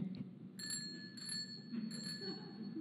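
A bell rings in three bright, sustained strikes spaced about half a second apart, each with a clear shimmering tone that lingers, over a steady low background hum.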